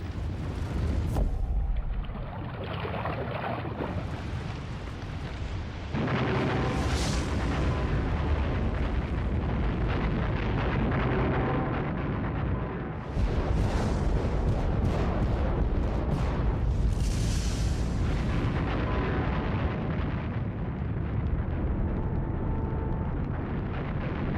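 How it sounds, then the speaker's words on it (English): A super eruption blast at the Yellowstone supervolcano: a continuous, loud, roaring rumble with deep booming surges that swell and break throughout, heavy and sustained with no voices. "The blast of a super eruption alone would be awesome"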